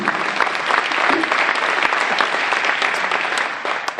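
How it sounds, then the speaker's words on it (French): Steady applause from an audience, dense clapping filling the room at a consistent loudness throughout. "qu'on peut applaudir aussi"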